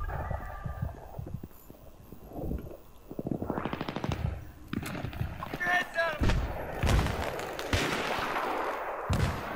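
Bursts of automatic gunfire in Battlefield 3 multiplayer, with loud close shots and rattling volleys over several seconds, while players talk over the action.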